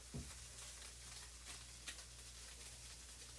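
Eggs fry in a pan with a soft, steady sizzle that stays faint and even throughout, broken by a few brief crackles and one low clink near the start.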